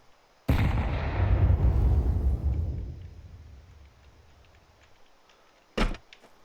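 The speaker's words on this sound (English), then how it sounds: "Grenade out." A grenade goes off on the Nuke map in a shooter game as one sudden heavy boom that rumbles and fades over a few seconds, followed later by a short sharp crack.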